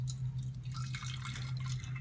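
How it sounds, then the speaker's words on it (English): Water poured steadily into a can sitting on a kitchen scale, a continuous trickling and dripping splash with a low steady hum underneath. "I'm just going to start adding the water"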